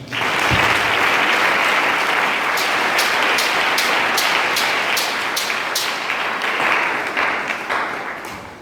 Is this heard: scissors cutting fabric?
no